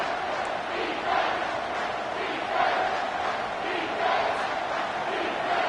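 Steady crowd roar from a football video game stadium, swelling and surging loudly on third down with no talk over it.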